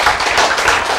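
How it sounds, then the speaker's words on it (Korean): Audience applause at a Korean sermon or lecture, a dense, steady wash of many hands clapping at close range for about a second. "박수."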